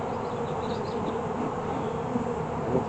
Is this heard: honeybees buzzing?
yes